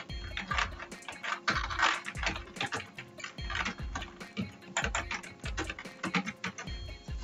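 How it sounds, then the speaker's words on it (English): Typing on a computer keyboard, with irregular clusters of close, crisp key clicks and taps running steadily throughout with brief pauses and no voices. "Then you can press enter and type your address here."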